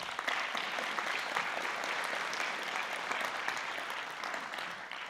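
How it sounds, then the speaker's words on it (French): Steady audience applause fills a hall at a pitch session marking the anniversary of the Institut Européen d'Écologie, with dense, even clapping held at constant strength from start to end. "Je voudrais qu'on les applaudisse pour les encourager."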